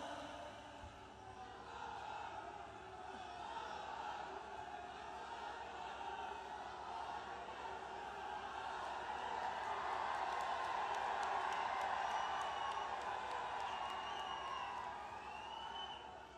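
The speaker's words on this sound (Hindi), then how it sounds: "जोरदार तालियों के साथ स्वागत" A large crowd at a political election rally in Pehowa claps and cheers in a sustained, distant-sounding wash of applause and shouts that swells toward the middle and fades slightly at the end.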